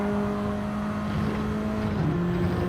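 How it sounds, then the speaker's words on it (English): Mini race car engines at Watkins Glen hum steadily with a sustained tonal drone, a held note that shifts pitch slightly near the end, close and continuous without talk. "Sound a little bit beefier than the 1965 minis, that's for sure."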